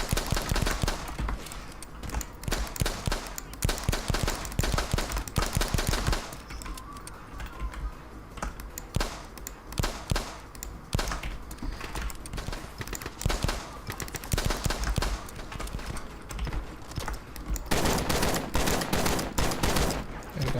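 Rapid handgun shots from the shooter game Shots Fired: Overkill crackle through a busy, noisy game mix, arriving in dense bursts and fast clusters with little pause across the whole stretch.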